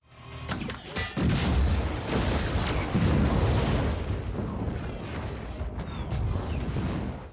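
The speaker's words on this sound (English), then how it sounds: "The whole refinery goes up in a massive explosion, and Mayfield watches it burn" A refinery in The Mandalorian erupts in a massive explosion: a sharp initial blast gives way to a long, dense, rumbling roar of fire and debris, loud and sustained, with crackling bursts layered on top.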